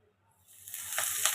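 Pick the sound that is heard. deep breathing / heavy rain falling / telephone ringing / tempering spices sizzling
tempering spices sizzling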